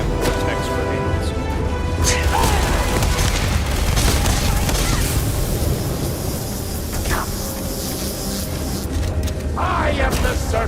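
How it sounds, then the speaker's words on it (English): Vortex grenade blast in Starfield, a dense booming burst with crackling noise that fills the scene at full loudness, with gunfire and other combat sounds layered throughout. "I guess it's one of the damn vortex grenades"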